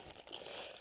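Close, quiet crinkling of plastic packets and wrappers such as crisp packets and biscuit wrappers, a brief dense rustle with no talking.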